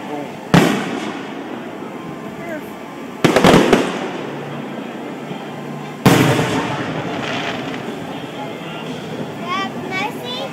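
Fireworks launching and exploding, with three sharp, loud bursts spaced a few seconds apart, each followed by fading crackle and rumble, while people talk quietly throughout.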